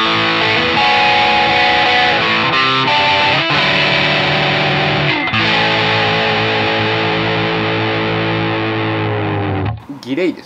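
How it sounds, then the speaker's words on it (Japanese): A Fender Jazzmaster electric guitar plays through distortion from an amp simulation, a clean-set amp and a simple digital delay, giving sustained chords and notes with trailing repeats that ring loud and close, ending in a brief scrape. "普通のデジタルのシンプルなディレイですね。"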